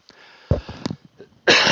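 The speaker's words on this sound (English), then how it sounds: "Excuse me about my coughing here." A person coughs a few times in short, harsh bursts, followed by a sharp, breathy exhale or sniff at close range.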